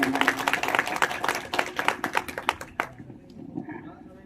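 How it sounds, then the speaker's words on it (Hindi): Audience applause for Sanjay Sharma at an indoor stage event, a dense burst of clapping from a modest crowd that thins and stops after about three seconds. "इनके लिए जोरदार तालियां"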